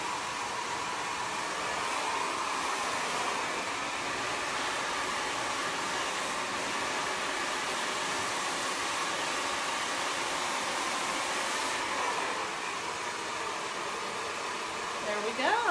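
A hair dryer blows steadily at close range while hair is blow-dried with a brush, a constant airy roar that holds for the whole stretch without talk.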